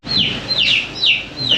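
Chickens kept in a bed in the Laotian countryside near Luang Prabang give four quick, loud, close clucks in a regular rhythm, with no talking.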